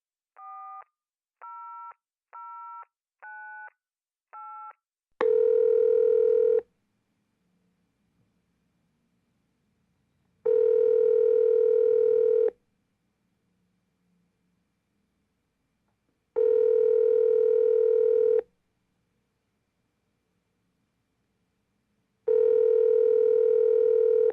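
A telephone call in a radio play: five quick dialing tones, then a ringback or busy tone repeating in long evenly spaced bursts with silent gaps, clear and alone.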